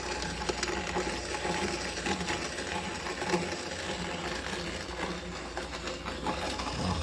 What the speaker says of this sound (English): But it's a pretty quiet grinder,